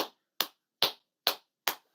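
Five sharp, evenly spaced hand claps, close and crisp with quick decay and clean silence between them, a "monkey clap" done with no one talking.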